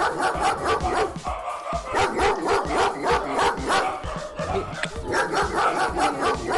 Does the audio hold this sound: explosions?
no